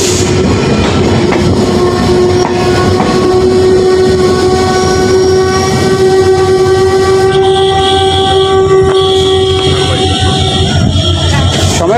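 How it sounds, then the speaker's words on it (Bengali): The Nilsagar Express intercity train pulls into Domar railway station in Nilphamari district under a steady, loud rumble of rolling cars, with long sustained horn or whistle tones sounding over it. "আমাদের ট্রেন প্রবেশ করলো নীলফামারী জেলা দ্বিতীয় রেলওয়ে স্টেশন ডোমারে"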